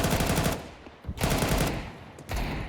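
Galil rifle fire in a Counter-Strike match, loud rapid automatic bursts in three long strings separated by brief gaps, close and dominant.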